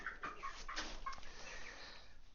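Young chickens cluck and chirp softly in their new coop, a few faint, scattered calls close by over a quiet background.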